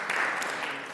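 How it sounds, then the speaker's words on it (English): Brief, soft burst of audience applause at a volunteer service awards ceremony, fairly distant and even, trailing off slightly at the end. "Give her a round of applause."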